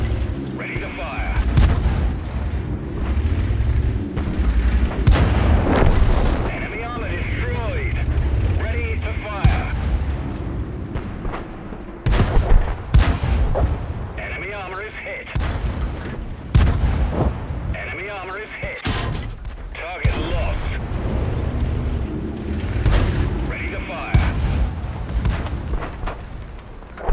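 Tank cannons boom repeatedly in a World of Tanks battle, loud sharp blasts scattered over a dense rumbling soundscape of engines and impacts, with voices speaking between shots.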